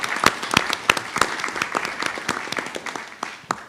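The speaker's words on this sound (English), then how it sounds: "I just want to give you guys a round of applause for all your support." Applause from a small group at a school board superintendent's workshop, sparse separate claps building into a light patter, moderately close, with no talk over it.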